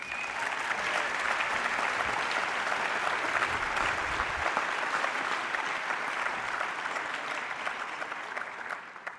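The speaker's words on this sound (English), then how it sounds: "Applause." Sustained audience applause fills a hall at a solar car race awards ceremony, dense and even clapping from a large crowd that holds steady for several seconds before slowly thinning toward the end.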